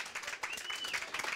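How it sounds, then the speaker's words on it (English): Applause from a studio audience on a college football coach's show, honoring a first-year head coach; faint, steady clapping with a thin tonal whine running through it. "a nice round of applause for first-year head coach Bob Bolden."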